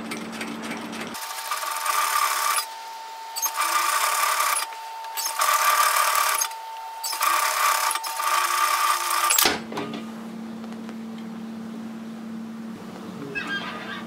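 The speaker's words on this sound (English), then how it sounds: "Now for this other side, I'm only stitching directly through the fabric." Sewing machine stitching straight through the woven fabric of a cape, running in several steady bursts separated by brief pauses, then stopping, leaving quiet room tone.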